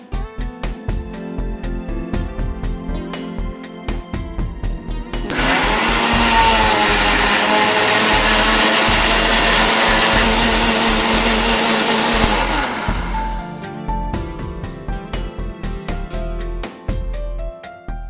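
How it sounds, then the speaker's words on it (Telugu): A kitchen blender whirs loudly for about eight seconds as it purées chunks of watermelon into juice, starting abruptly and cutting off cleanly, with quieter kitchen handling sounds before and after. "సో దీన్ని మనం మిక్సీ చేసేసుకుంటాం."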